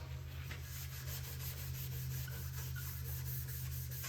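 A red abrasive pad rubs steward over a painted aged-steel finish, a steady continuous scuffing that holds even and close for the whole stretch, with no voices.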